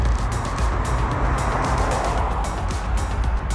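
A Skoda Octavia RS engine runs down a track straight at speed, a muted, steady hum buried in heavy wind and road rush, with faint rhythmic thumps throughout.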